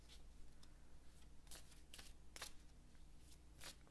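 A round oracle card deck being shuffled by hand: faint, close riffling and sliding card noises in several short bursts, separated by quiet pauses.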